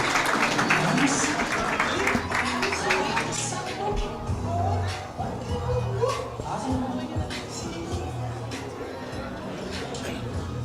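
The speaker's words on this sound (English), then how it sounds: "Give them a round of applause" An audience at an agricultural career fair opening applauds, with clapping that is strongest early and then thins, while voices talk over and through it.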